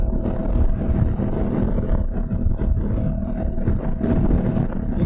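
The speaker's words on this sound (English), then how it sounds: "You can hear the tires, but the tires aren't that bad." A 2024 Honda Africa Twin base model cruising at about 80 mph and 4,800 RPM gives a steady, loud, low road roar of tyres and wind with no gaps.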